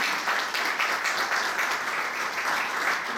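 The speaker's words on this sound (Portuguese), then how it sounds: "Deu uma salva de palmas." A church congregation bursts into steady applause, dense and continuous clapping from many hands, fairly close and sustained throughout.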